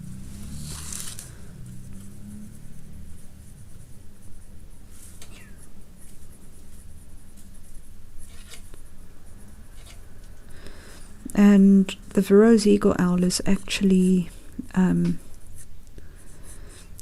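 A pencil scratches across paper in quick bursts of scribbling strokes, faint at first then louder near the end, while a person talks over it.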